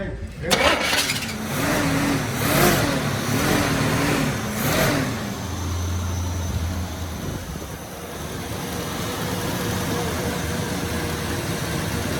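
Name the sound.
Chevy C30 dually 400 V8 engine revving, burning rubber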